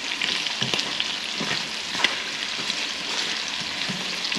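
Chicken, asparagus and mushrooms fry together in a pan with a continuous, fairly loud sizzle. Scattered utensil scrapes and pops run through it, with one sharp knock near the middle and no speech.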